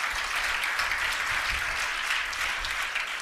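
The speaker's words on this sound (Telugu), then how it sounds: "ఒకసారి గట్టిగా చప్పట్లు కొట్టి దేవుని స్తుతి." A church congregation claps loudly in praise of God, a dense, steady wash of many hands sustained throughout without any voices.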